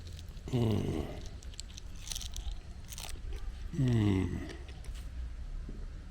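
Crunchy sour cherry pie with sugar on top being bitten and chewed up close, two distinct crunching bites about three seconds apart with softer chewing between them.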